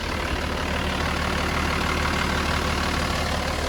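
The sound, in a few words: 1989 Toyota Land Cruiser HJ62 turbo diesel engine idling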